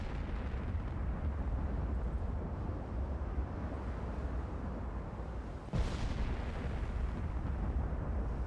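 Naval battleship guns fire in the video game Ultimate Admiral Dreadnoughts, a continuous rumbling barrage of booms with a sharper blast near the end, with no talk.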